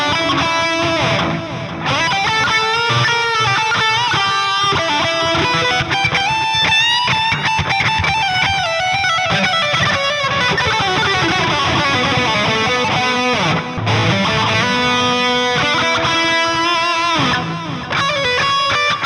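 Heavily distorted metal lead guitar played through the ReAmp2 Splon Quick Rod 100 amp model with a Tubescreamer in front and reverb and delay after, sustained bends and fast runs ringing loud and dense over a full backing for the whole stretch.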